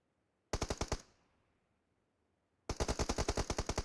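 Two rapid bursts of automatic gunfire in a video game, each about a dozen sharp shots, separated by a short silence, loud and close.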